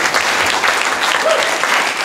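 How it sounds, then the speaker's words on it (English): An audience at a business mastermind presentation gives a dense, steady round of applause, loud and close, with no talking over it. "another round of applause"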